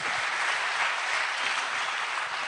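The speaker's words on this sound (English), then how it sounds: "Give ourselves a clap" Steady, dense applause from a crowd at a Pan African institute launch in Kenya, continuous and even throughout with no pauses.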